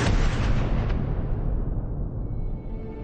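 A single heavy gunshot boom in a wartime execution scene, loud and close, its dense roar decaying slowly over about three seconds with no voices.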